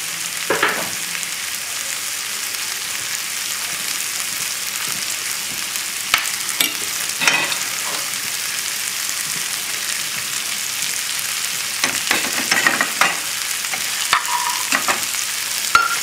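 Chicken thighs sizzle steadily in a pan for a dish with cannellini beans and olive oil, a close, even frying hiss broken by occasional clinks and scrapes of utensils, with no talking.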